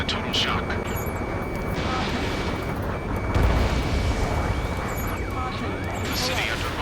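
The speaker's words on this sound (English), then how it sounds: "Gunfire and the roar of jets echoing through the streets." Jet aircraft roar and scattered gunfire fill a city under martial law in Ace Combat 7, a dense continuous rumble with swelling jet passes and a heavy crash midway, while a voice talks over it.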